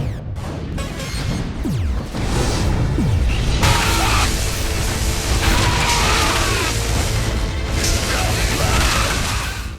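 Explosions and crashing destruction in the video game Red Faction: Armageddon, with dense booms, smashes and whooshes piling up continuously over game music.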